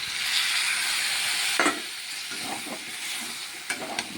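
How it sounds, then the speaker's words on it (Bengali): A spiced curry with sugar is stirred in a hot pan, with a continuous sizzling hiss broken by a few sharper scraping strokes of the spoon. "চিনি দিয়ে আবার একটু নেড়ে চেড়ে নেবো"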